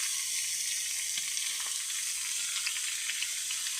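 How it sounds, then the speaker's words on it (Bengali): Fish sizzles steadily in oil in a kadai, a bright continuous crackle with scattered pops, close and even throughout, with no voices. "এদিকে কড়াইতে বসায় দিছি মাছ ভাজা।"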